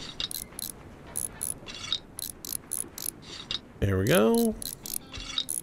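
Rapid, close ratchet clicks tightening bolts in the game Train Mechanic Simulator 2017 come in short bursts, with a brief whirring mechanical sweep partway through and someone speaking briefly.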